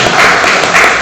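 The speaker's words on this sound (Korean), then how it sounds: "자, 우리 박수 한번 합니다." A church congregation applauding during a sermon, producing a loud, dense wash of clapping across the whole moment.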